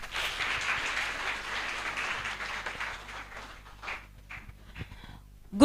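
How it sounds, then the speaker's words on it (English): An audience claps continuously in honour of a school principal at a hospitality institute event, a steady dense patter that thins out toward the end, with faint voices underneath. "Let's clap continuously for Madam Principal."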